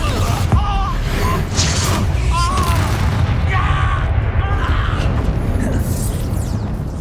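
Confringo fire blast spell explodes in Hogwarts Legacy combat, booming bursts and crackling flames layered with battle clatter and character voices over several seconds.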